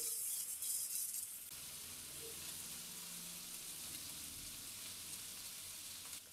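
Sole fish frying in green masala with a little oil over a medium gas flame, a soft, steady sizzle and hiss running throughout, fairly quiet and close, with no talking.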